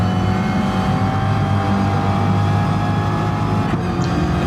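A racing car engine in the video game Gran Turismo Sport drones at high revs near the limiter, a loud sustained buzzing tone without a break.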